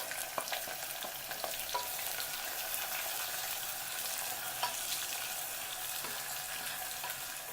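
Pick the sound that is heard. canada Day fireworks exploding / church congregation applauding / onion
onion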